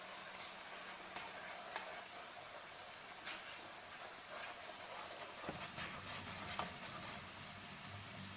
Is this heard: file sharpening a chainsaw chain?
no